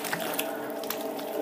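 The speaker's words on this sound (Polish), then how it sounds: "Wody. Dużo wody." Plenty of water poured over clay spinning on a pottery wheel while throwing a tea bowl, a steady close splashing and trickling wash with no pauses.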